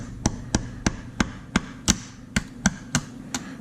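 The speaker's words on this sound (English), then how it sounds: "I'm gonna take my little plastic hammer jobber." A small plastic hammer taps repeatedly while a part is disassembled, nine sharp, close knocks at a steady, roughly even rhythm with no talk.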